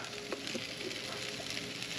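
Potatoes fry in hot oil over a LavaBox propane portable campfire with a steady, dense sizzle and soft crackles, close and continuous, with no voices over it.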